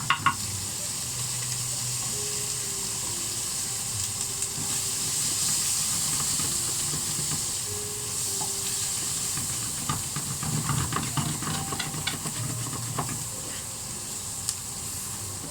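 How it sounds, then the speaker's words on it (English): Butter and garlic sizzle in a hot pan, a steady close hiss and crackle that runs unbroken from start to finish. "And now I'm going to put in some butter."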